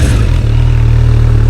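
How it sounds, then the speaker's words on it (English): A Suzuki Bandit GSF 1200 motorcycle idles steadily through an exhaust with a drilled rear baffle, giving a loud, close, even low rumble after a brief blip of revs at the start. "I think the exhaust really sounds just where I want it."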